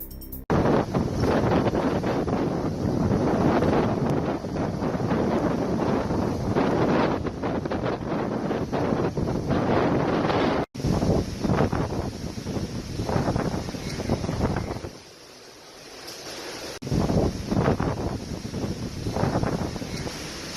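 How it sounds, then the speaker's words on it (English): Gusting wind from Hurricane Florence batters a North Carolina beach house, a loud continuous roar buffeting the microphone, dipping briefly before surging back. "Gusts of wind and torrential rain caused extensive damage in North Carolina after Hurricane Florence"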